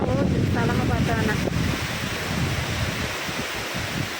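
Strong wind blows outdoors on a cloudy day that looks like rain, roaring steadily across the microphone with gusty rumble and rustling; a voice and faint whistling tones surface early before fading under the wind.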